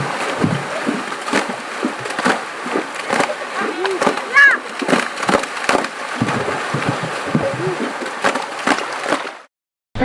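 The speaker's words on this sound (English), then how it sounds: "women would walk to the spring to collect drinking water and engage in the practice of water music" Women play water music at a village spring, slapping and drumming on the water's surface in rapid rhythmic splashes and hollow thumps. Loud, close and continuous, it ends abruptly near the end.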